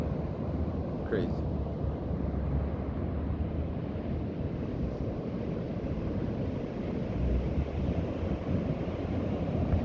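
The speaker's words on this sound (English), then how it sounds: "That wave crashing over there." Very big ocean waves crash and roll in, a low, continuous rumbling surf with steady wind buffeting the microphone, fairly loud and unbroken throughout, with a person talking over it.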